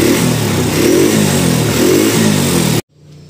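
Honda Revo motorcycle with a fault that makes it lose power under throttle revs hard in a steady, loud, buzzing engine roar, then cuts off abruptly, leaving near silence.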